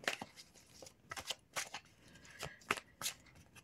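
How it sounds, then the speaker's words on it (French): Oracle cards riffled and drawn from a deck: a handful of crisp, papery slaps and flicks, close and distinct, separated by short quiet gaps. "je vais tirer une deuxième carte quand même pour avoir plus de précision par rapport à ça"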